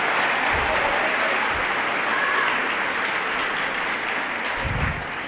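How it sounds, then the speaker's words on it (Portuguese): A church congregation claps loudly and continuously, a dense wash of applause lasting several seconds with no voices over it. "Pode aplaudir."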